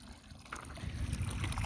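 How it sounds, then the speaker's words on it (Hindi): Water running into a drinking container outdoors in Saudi Arabia, a steady gurgling trickle that builds and grows louder over a low rumbling background, with no talking. "इसमें पानी भी भर रहा हूँ मैं"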